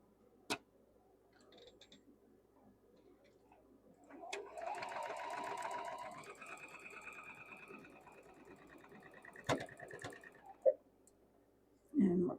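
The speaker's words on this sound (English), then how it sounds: "we're going to sew these two together and these two together right down the centers" A sewing machine stitches quilt blocks together in a short burst of rapid whirring and ticking, with clicks and handling noises around it and a voice faintly in the background.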